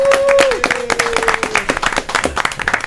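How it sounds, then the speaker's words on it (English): Audience applause and clapping for the Brazos Tacos crew at a Tejano show, a short loud burst of many hands with a sustained tone and a voice over it at the start. "give a big round of applause for the Brazos Tacos"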